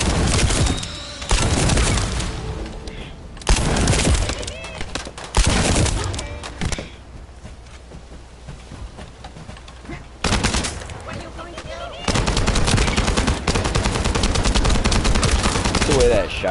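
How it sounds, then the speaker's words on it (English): Loud shotgun fire in The First Descendant video game comes in dense, rapid volleys of heavy blasts separated by brief lulls, close and booming, with voices talking between bursts. "The way that shotgun comes in and takes care of business."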